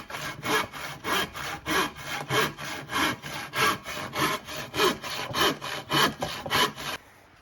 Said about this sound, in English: we need to make a template and try and handsaw this and put it in place